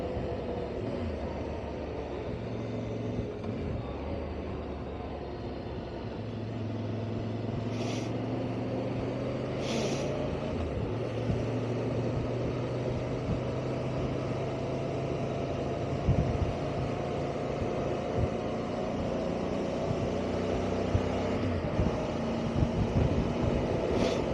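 A Voge DS625X motorcycle with off-road-biased suspension is ridden on the road; its engine drone rises and falls with gear changes under constant wind rush, and no one speaks.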